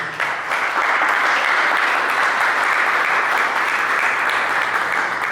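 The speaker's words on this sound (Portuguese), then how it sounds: "a igreja aplauda o Senhor Jesus" A church congregation at a Vida Nova Mongaguá service bursts into loud, sustained applause, a dense wash of clapping that holds steady from start to finish.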